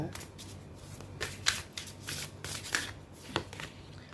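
Tarot cards being shuffled by hand to draw an extra card, a soft continuous papery riffling with small repeated snaps and flicks, close but quiet.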